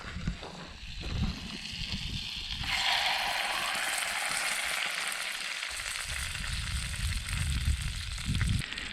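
A whole fish fillet, seasoned with Cajun seasoning, frying in a pan over a forest campfire, a loud, continuous sizzle that swells and holds steady, with some handling noise at the start.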